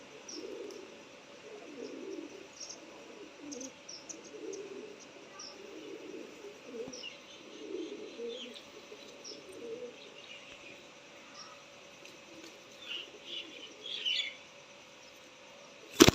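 Red-eyed Dabwale pigeons coo softly and repeatedly in low, murmuring phrases, joined by faint chirps over a steady background hum, with a sharp knock at the very end.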